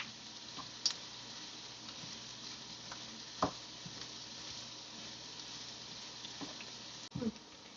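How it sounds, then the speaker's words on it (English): Onions frying over a high flame while being stirred in a pan, a steady close sizzle broken by a few sharp scrapes and clinks of the spoon against the pan. "after you add the onion, put it in high flame and mix it for a bit"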